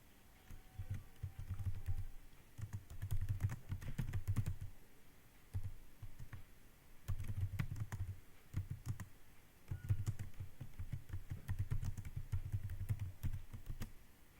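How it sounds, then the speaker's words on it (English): Typing on a computer keyboard, a steady run of quick, close key clicks in bursts with short pauses between, no voice. "So I have typed whatever I want."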